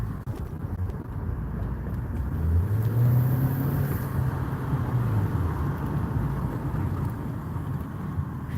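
A 2014 Ford Escape's turbocharged four-cylinder engine held at high revs, a steady droning hum with a rising and falling whine in the middle, close and loud with no talking.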